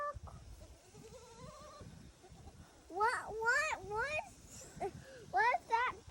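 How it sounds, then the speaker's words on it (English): A baby goat on a homestead gives a series of wavering, high bleats, three close together and then two more after a pause, near and fairly loud, with quiet talk and background noise before them. "See the baby goat? Look."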